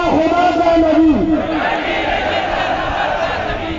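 A large crowd at a religious gathering roars a slogan response in unison after a chant leader's call, loud and massed, with voices swelling and then sustaining in a broad roar.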